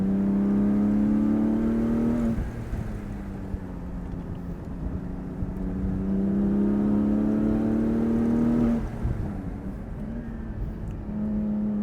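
A sports car exhaust revs in two long swells, the engine tone climbing and dropping, loud and close with a throaty drone between pulls.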